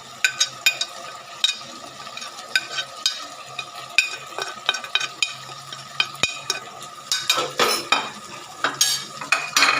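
Cumin and coriander powder being stirred into chicken karahi gravy in a pan, with rhythmic spoon scrapes and clinks over a steady sizzle, close and loud, no talk.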